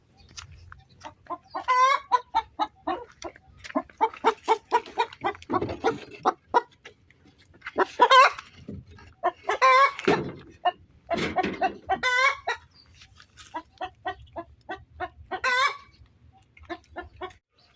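Hens cluck in short, repeated bursts of varied calls, close and fairly loud, with brief pauses between phrases against a quiet background.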